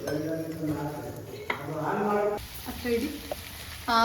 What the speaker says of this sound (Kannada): ಇವಾಗ ಇಲ್ಲಿ ಗ್ರಿಲ್ದು ಪ್ಯಾನ್ ಇಟ್ಬಿಟ್ಟು ಇದನ್ನ ಹಿಂಗೆ ಸುಡ್ತಾ ಇರಬೇಕು